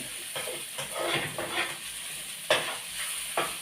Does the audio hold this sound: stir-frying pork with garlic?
yes